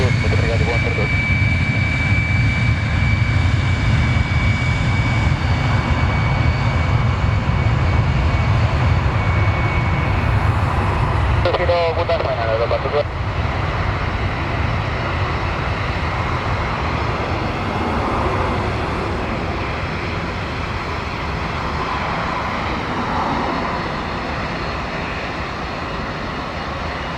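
An airliner at Lisbon airport roars with a loud, steady jet engine drone throughout, while faint radio chatter comes through underneath.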